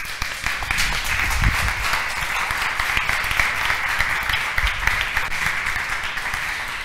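An audience at a talk on hormone disruptors applauds for a departing guest, steady crowd clapping with a few louder individual claps standing out near the front.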